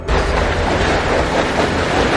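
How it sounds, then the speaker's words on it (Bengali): A loud, steady rumble of a train rolling along, a dense continuous roar with no voices. "ট্রেনটা তাহলে টাইম মতোই ছেড়েছে"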